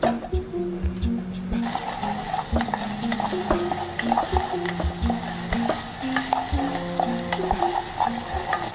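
Onions sauté in virgin coconut oil in a cooking pan, with a steady sizzle and repeated scraping stirs of a utensil against the pan, close and loud throughout.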